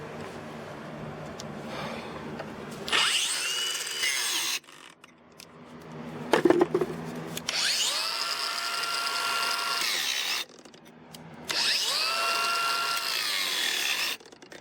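Ryobi and Ridgid brushless angle grinders cutting, loud whining bursts that rise and settle into a steady high drone, each run stopping abruptly, with a brief clatter and quieter gaps between.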